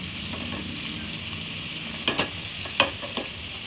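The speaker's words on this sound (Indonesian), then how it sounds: "bisa langsung dibolak-balik terus ya teman-teman sampai warna coklatnya merata" Fermented cassava tape fries in a pan with a soft, steady sizzle, broken by a few sharp scraping clicks as the pieces are stirred and flipped.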